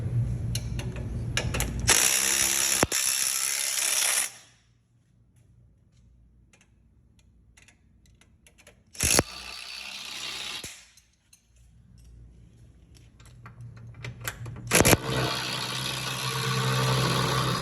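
Big Red jack raising a 2020 Jeep Wrangler during a 2.5-inch Rough Country lift install, with ratcheting clicks, broadband mechanical noise that cuts out into near quiet and then returns, close and loud.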